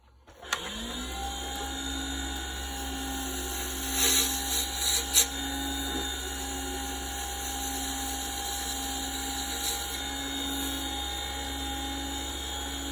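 Carbide tool taking a cut on a pen blank spinning on a wood lathe: a steady whining hum with a brief rougher scraping burst midway, close and continuous.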